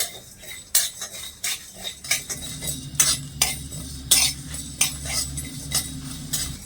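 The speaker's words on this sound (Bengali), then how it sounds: "এবারে এই মশলাগুলো আমি শুকনো খোলায় একটুখানি ভেজে নেবো" Whole cumin, cinnamon and cloves dry-roasting in an empty pan, heard as a close, steady run of metallic clinks and scrapes from the stirring spoon over a low hum, with no talk.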